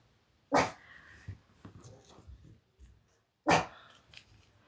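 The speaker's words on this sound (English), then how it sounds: "my dog started barking" A pet dog barking indoors, two sharp loud barks about three seconds apart with soft huffs, breathing and low growls in between.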